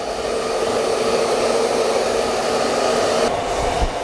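A hair dryer blows on a puppy after a bath with a loud, steady whoosh throughout, its airflow shifting slightly near the end.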